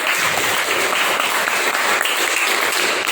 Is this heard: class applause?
yes